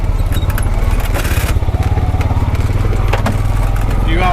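A Pioneer 520 side-by-side utility vehicle drives along a rutted trail, its engine a steady loud close drone with rattles and bumps throughout; someone talks over it.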